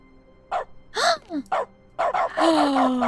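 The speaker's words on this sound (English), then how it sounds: "I can bark now! Every time I click, it's a bork." Dog barks in The Stanley Parable's dog mode, a few short clicks triggering small yappy barks and whimpering yips in quick succession, clear and close.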